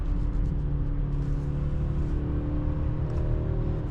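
Engine of a 2026 BMW X3 30i under manual gear upshifts, a steady, moderately loud interior drone and rumble with slowly shifting pitch, no speech.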